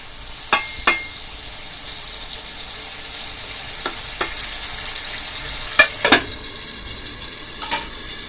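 Pumpkin-leaf curry stirred in a pan: a steady soft sizzle with sharp scraping clinks of a spatula against the pan at irregular intervals, close and clear.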